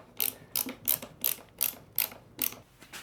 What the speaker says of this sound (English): Now I'll screw these in, and I've got the 2 pieces joined.